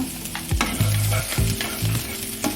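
Chicken pieces frying and being stirred in a pan for an Andhra-style chicken curry, a steady close sizzle broken by repeated scraping strokes of the spoon, with no talk.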